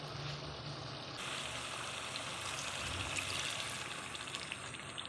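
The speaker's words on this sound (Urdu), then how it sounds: "اب ہم اس کے اندر پانی ڈالیں گے 2 گلاس" Two glasses of water are poured into a pot of khara masala beef handi, a steady splashing gush that rises after the first second and continues throughout, with no talking.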